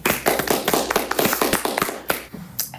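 A studio audience applauds a guest on a school broadcast-festival talk show, with dense overlapping claps and a few sharp slaps at close range that fade toward the end.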